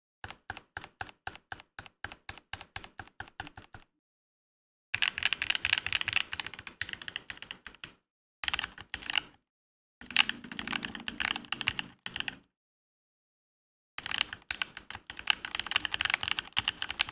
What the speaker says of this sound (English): Takes a little bit to get used to typing on this since the keys are right above